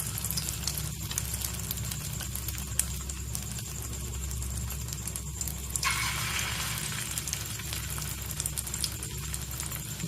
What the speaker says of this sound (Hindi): अब जो है हम आलूओं के कबाब को जो है इसमें डिप करके अंडे के पेस्ट में और इसमें फ्राई करते जाएंगे।